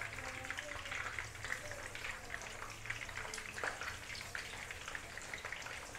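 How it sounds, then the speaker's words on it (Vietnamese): Fermented pork rolls (nem chua) frying in hot oil crackle and sizzle steadily at low volume, a continuous spattering hiss with small pops, and no talking. "Nem chua rán này nó nhanh lắm nha mọi người."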